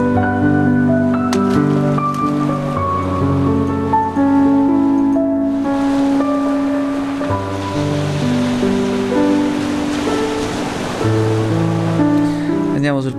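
Beach waves in the video game Finding Paradise wash and hiss steadily beneath a prominent melodic music track, the surf forming a soft, continuous background layer.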